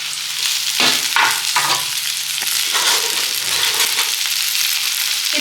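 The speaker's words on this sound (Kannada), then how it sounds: "ಈ ಹೆಚ್ಚಿಟ್ಕೊಂಡಿರೋಂತಹ ಬೆಂಡೆಕಾಯಿಯನ್ನು ಚೆನ್ನಾಗಿ ಹುರ್ಕೊಳ್ತಾ ಇದ್ದೀನಿ" Chopped okra fries in about two spoons of oil in a pan, giving a continuous close sizzle broken by a few clattering stirs early on, then settling into steady frying noise.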